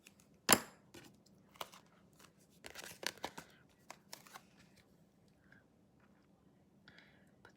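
Vellum paper being trimmed: soft, close crisp snips and rustles scattered irregularly at low volume, with one sharper cut near the start.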